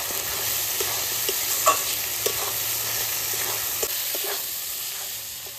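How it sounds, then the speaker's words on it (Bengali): Tomato stir-fried with turmeric, salt and spices in a pan, a constant bright sizzle with occasional soft scraping taps of the spatula, close and even, without talk. "এবার দিয়ে দেবো টমেটো।"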